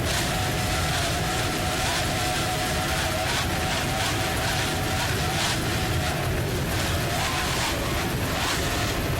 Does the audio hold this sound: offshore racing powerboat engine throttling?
yes